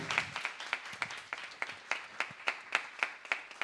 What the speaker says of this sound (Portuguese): Vamos aplaudir, então